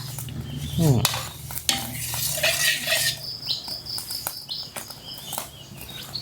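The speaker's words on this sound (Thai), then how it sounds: "ผัดหัวกะทิเรากับผัดพริกเราให้หอมก่อนนะคะ" Coconut cream is stir-fried with chili paste for a coconut curry with taro stems and pork bones, giving a close, steady sizzle broken by scraping and stirring sounds, with no talking.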